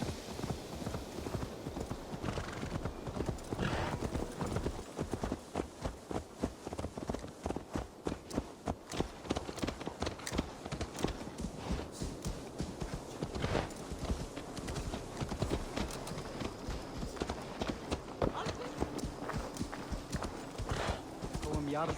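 Steady clip-clopping of horse hooves at a walking pace in Assassin's Creed Valhalla, close and continuous, with occasional voices and game sounds mixed in.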